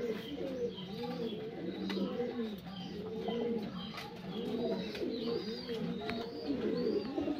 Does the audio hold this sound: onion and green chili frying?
no